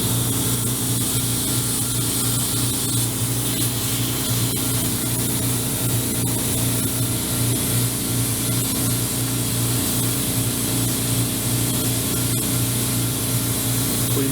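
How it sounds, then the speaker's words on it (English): An airbrush sprays lacquer thinner through its tip while being cleaned, a continuous close hiss of air with a steady hum beneath, unbroken and even for the whole stretch, no voices. "And run it through the airbrush."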